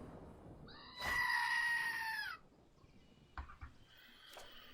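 A goat in the Magic the Gathering Arena video game gives one loud, strained bleat lasting over a second, followed by a few short clicks and a faint tone.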